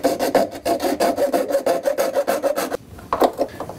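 Rhythmic back-and-forth rasping of a hand saw cutting through a plastic sink drain tailpiece, about a dozen steady strokes up close, then a brief pause and a few final strokes.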